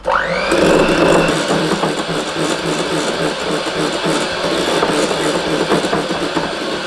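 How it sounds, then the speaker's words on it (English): Electric whisk running continuously through a white chocolate cheesecake mix, a loud, steady motor whir that starts abruptly and holds at an even level throughout. "And I'm going to whisk you some more."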